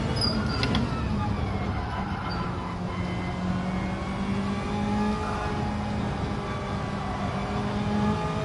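A Lancia Stratos engine revs during track practice at Laguna, a steady, loud mechanical drone that holds its pitch throughout with no clear voices.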